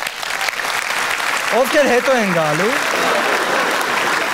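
A studio audience on a women's club television show applauds steadily throughout, with a host talking over the clapping.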